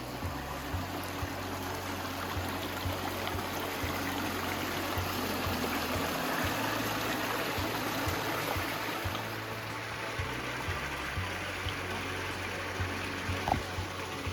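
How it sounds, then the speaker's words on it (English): A small waterfall at Devil's Gulch spills steadily, a continuous soft rushing and trickling wash heard from nearby at low level, with no voices over it. "Oh, look how cute the baby waterfall is."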